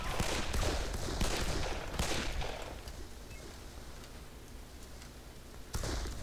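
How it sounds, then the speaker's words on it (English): Gunfire from the video game Darkest of Days, with dense bursts of shots crowding the first seconds, then thinning into a softer rattle before a sharp burst near the end. No voices are heard. "Dude, I shot you in the chest."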